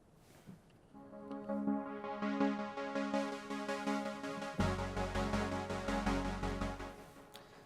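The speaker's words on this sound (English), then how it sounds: "I'm using a plugin called LFO Tool to create a pulse effect on the pad sound" A sustained Omnisphere synth pad with an Oberheim-style tone, pumped by an LFO Tool sidechain effect so it swells and ducks in a steady rhythmic pulse, with fuller low end joining partway through and no talking.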